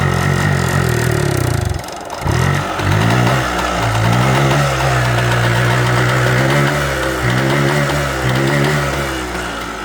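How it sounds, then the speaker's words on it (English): A Suzuki TF185 two-stroke motorcycle engine, its oil pump faulty, revs up as the throttle opens, a loud buzzing rise with a brief dip before settling into a sustained high, rattling drone. "But when I open the throttle"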